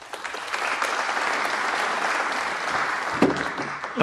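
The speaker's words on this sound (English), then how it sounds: "Appropriate applause." Audience applause at a snooker match, the 2023 British Open: a steady, full round of clapping from the crowd, fairly loud and sustained throughout.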